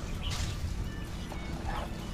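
Dogs give a couple of short barks and yips at moderate distance over steady background noise, with no talking.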